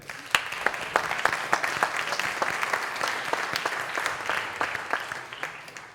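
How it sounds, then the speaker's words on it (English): Scattered, fairly quiet applause from a small conference audience, individual sharp claps clearly separated in an uneven rhythm throughout. "These 3 here, round of applause"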